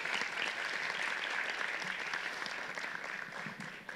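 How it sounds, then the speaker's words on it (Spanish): Warm audience applause at a youth chat gathering, clapping for a father in the crowd. Steady, dense clapping fills the room at an even level and eases slightly toward the end, with no talk over it. "Por un aplauso hoy, papá, por favor."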